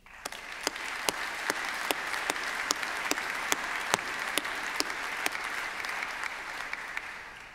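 A graduation ceremony audience at a university applauds in a show of condolence, with even, sustained clapping from a large hall, fairly soft and distant, lasting throughout with no talking.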